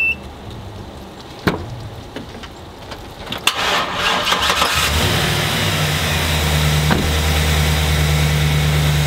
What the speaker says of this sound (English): Engine start the second time.